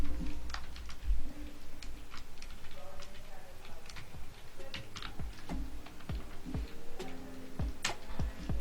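Quick bursts of computer keyboard typing while writing CSS code, irregular sharp clicks in short runs up close, with someone talking over the keystrokes.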